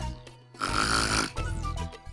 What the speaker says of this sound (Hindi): जितने दहाड़े मार मार के खर्राटे ले रही है